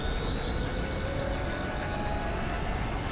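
A jet engine roars steadily in Final Fantasy VII Rebirth, a loud, constant whooshing drone with a slowly shifting high whine, heard alone without talk.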